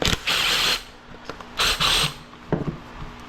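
A ratchet wrench loosens a 1/2 inch nut on a split-rim drive tire and caster, giving several short bursts of rapid clicking close up, separated by brief pauses and small clunks.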